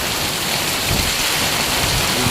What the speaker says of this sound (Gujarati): ધોધમાર વરસાદની શરૂઆત થઈ ગઈ છે